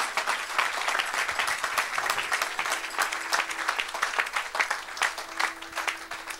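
Applause from a church congregation during a Saturday worship service, dense and steady clapping filling the room for several seconds, with faint voices underneath.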